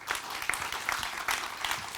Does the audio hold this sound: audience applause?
yes